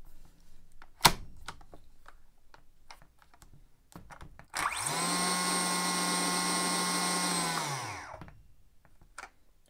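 After a few sharp clicks, a Makita DUC356 cordless chainsaw spins up and runs steadily at high speed, then its electronic brake stops it abruptly and it quickly winds down, followed by light clicking.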